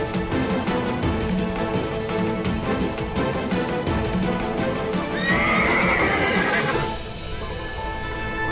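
A horse gallops with rapid rhythmic clip-clop hoofbeats, then lets out a loud whinny midway, set against a continuous musical background.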